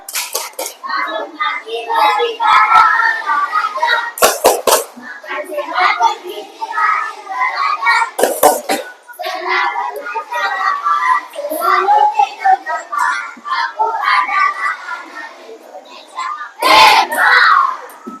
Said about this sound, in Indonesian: kalau begitu renggangkan tangannya, kita tepuk Indonesia hebat